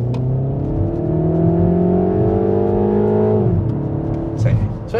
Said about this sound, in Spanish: La válvula de alivio hace como un nuevo sonido cuando uno acelera bastante.